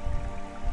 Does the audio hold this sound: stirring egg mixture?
no